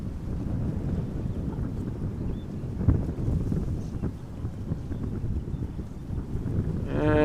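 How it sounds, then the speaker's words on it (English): Wind gusts buffet the microphone at Amsterdam Schiphol Airport during crosswind arrivals, a rough, rumbling low roar that swells and eases, with a brief mechanical whine rising at the end. "The prevailing wind is blowing from the west"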